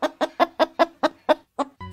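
A chicken gives a rapid series of about nine loud clucks, close and evenly spaced, ending in a longer harsher squawk.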